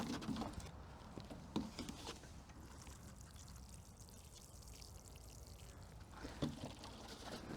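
Soft, faint water pouring and pattering steadily onto compost around sugar snap pea seedlings, with a couple of light knocks near the start and end.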